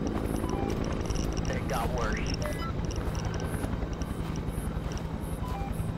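A helicopter in an alien abduction horror video game drones steadily and fades into the distance as it flies off, a constant low rotor hum with faint beeps on top, while a voice speaks briefly over it.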